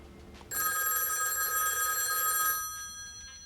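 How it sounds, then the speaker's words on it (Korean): A telephone rings with a bright electronic trill, one sustained burst that cuts off abruptly, leaving quiet room tone. "이때 루이스의 방에 한 통의 전화가 걸려오는데"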